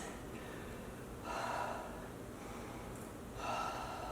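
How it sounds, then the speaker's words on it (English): Slow, deep breaths during a yoga stretch in a cool-down session, two audible breath swells spaced a couple of seconds apart over a quiet background. "Keep breathing. Nice, deep breaths."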